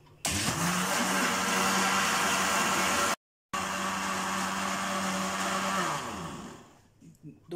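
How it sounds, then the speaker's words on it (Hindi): Electric blender whirring loudly as it blends bread soaked in milk, running steadily with a brief stop then resuming before winding down. "दो से 3 मिनट के लिए हम इसको ब्लेंड करेंगे।"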